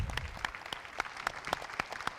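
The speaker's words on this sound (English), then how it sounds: "Let's give all of our first half finalists a round of applause." Sparse, scattered claps from a small audience at a business pitch competition honoring the finalists, roughly a dozen distinct hand claps spaced out at a fairly even pace, moderately near and thin rather than a full ovation.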